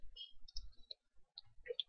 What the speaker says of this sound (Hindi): और उसी लाइन के अंदर डबल क्लिक और सिलेक्ट हो गए।